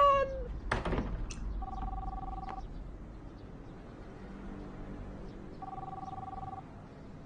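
A telephone rings twice in a dark Indonesian horror scene, each steady electronic ring lasting about a second with a few seconds of quiet room noise between them, after a brief sharp knock near the start.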